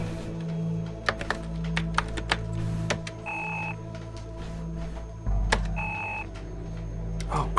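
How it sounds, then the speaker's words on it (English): Computer keyboard typing in the Phantasmagoria 2 game: scattered sharp clicks come in irregular bursts over a steady hum, with a couple of short electronic tones. No one speaks. "Click on the keyboard."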